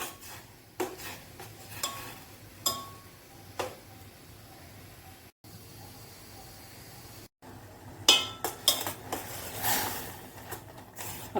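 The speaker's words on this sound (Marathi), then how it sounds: "थोडंसं असं चमच्याने मिक्स करायचं आहे." A spoon stirring jaggery and tamarind water simmering in a pot, with soft scraping and clinks against the metal sides, coming in irregular bursts with brief pauses, close and fairly quiet.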